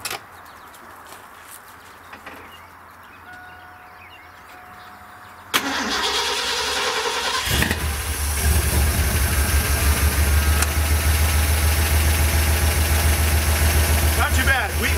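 A Ford F-350 fitted with FiTech fuel injection cranks and fires up from cold, catching with a sudden loud burst and settling into a rough, steady idle up close with occasional pops, after a quiet stretch.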